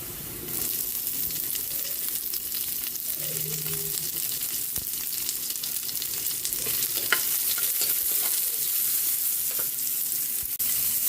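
Onion sizzling as it sautés in a pan with garlic for ginisang munggo, a loud, steady hiss of frying with faint stirring clicks, heard close and uninterrupted by speech.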